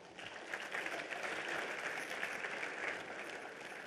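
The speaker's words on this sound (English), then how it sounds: "Round of applause for him, please." Audience applause for fashion designer Vivek Karunakaran at a Sycon 2015 event, faint and even clapping from a distant crowd that holds steady throughout.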